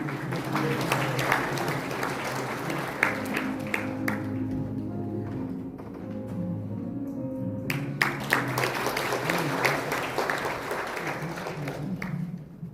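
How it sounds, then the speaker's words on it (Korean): An audience claps steadily at a provincial government report meeting as an assembly chairman is welcomed, the applause continuous and moderately loud over faint hall tones and a murmur of voices. "큰 박수를 모시겠습니다"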